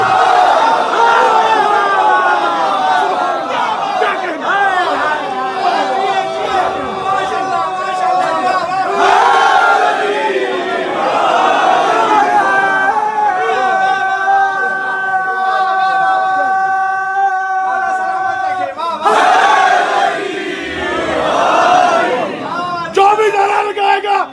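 A large crowd at a religious majlis chants loud slogans in unison, repeated sustained shouted calls in waves, mixed with a leading voice and crowd noise.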